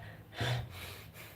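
A man imitates shallow breathing with a single quick, sharp intake of breath like a gasp or snort, close and alone with no talk.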